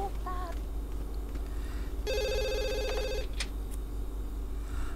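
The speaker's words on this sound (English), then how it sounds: "And now the phone's ringing." A telephone in The Sims 2 video game rings with a rapid electronic trill lasting about a second, followed by a couple of short clicks, over a low steady hum.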